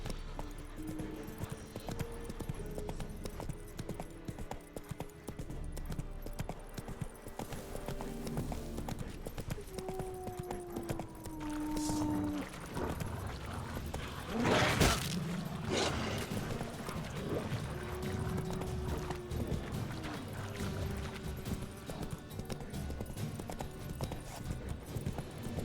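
Roach the horse gallops steadily in The Witcher 3, a continuous clip-clop of hooves running throughout, with a brief whinny and game music underneath.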